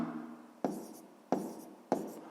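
A pen or pencil scratches out a fraction in a school notebook during a sixth-grade maths exercise, three quick strokes each trailing into a softer scratching, close and quiet.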